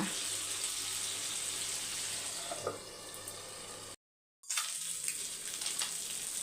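Fish sizzles steadily in a hot pan for a village-style fish curry and fry, a bright continuous crackle that cuts out abruptly for a moment before resuming.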